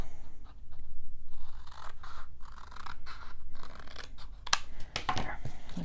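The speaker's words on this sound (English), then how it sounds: "I'm just trimming a little of this extra off on this one." Scissors trimming excess paper off a page of a handmade mini album, with scattered crisp snips and rustling paper, close and moderately quiet, without talk.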